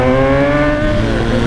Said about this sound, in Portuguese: Acelerado só pra nós ver a moto, né?